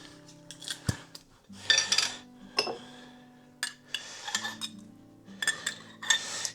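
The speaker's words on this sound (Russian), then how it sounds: "Сейчас я с другой банки добавлю майонез." Spoon scraping and clinking against a jar while mayonnaise is scooped into a potato and tuna filling, with a few close, irregular metallic taps and scrapes over a quiet background hum.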